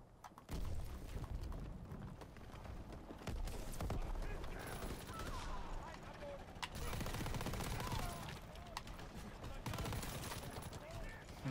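A Tommy gun in a WWII shooter fires in quick repeated bursts amid other gunfire and battle clatter, close and loud, with brief pauses between strings of shots and a voice talking over it.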